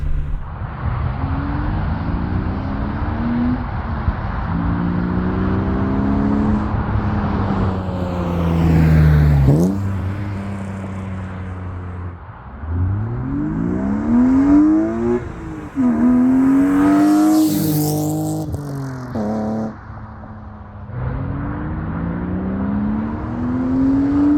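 BMW E36 M3 with a Turner Motorsport intake pulling through the gears, loud induction roar rising in pitch with several upshifts and brief drops, heard from inside the car.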